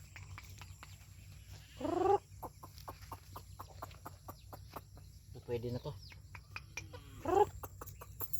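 Chickens clucking and squawking in short bursts outdoors, with a person speaking briefly nearby and a constant low hum underneath.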